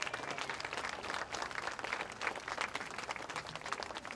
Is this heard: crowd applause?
yes